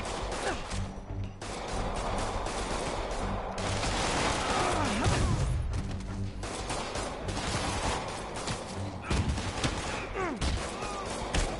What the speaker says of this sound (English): I wish y'all stopped shooting at me